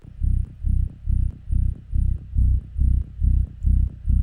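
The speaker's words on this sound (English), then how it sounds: "In regards to the bass, we have a Psytrance bass." A dry, deep, unprocessed psytrance synth bass pulses in an even rhythm, about two thumping notes per second, with a faint ticking above and no voices.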